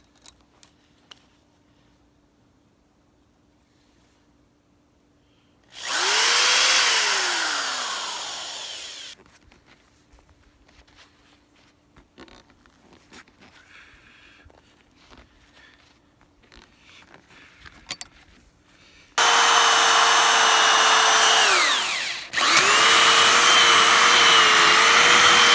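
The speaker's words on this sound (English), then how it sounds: "we're using the 13/64 drill bit, and I have 18 more of these to drill." A power drill fitted with a 13/64 bit bores holes for a DIY rope crawl net obstacle, two loud sustained whining bursts with the motor pitch dropping as it bites, separated by quieter handling clatter.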